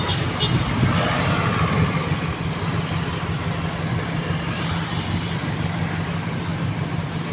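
Manila street traffic heard from the back of a jeepney, a loud continuous rumble of engines and tires with passing vehicles and wind, steady throughout with no talk.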